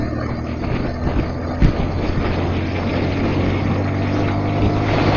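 A motorcycle engine drones steadily at speed on a road ride, a constant loud hum with rushing wind noise and one brief bump, with no talking.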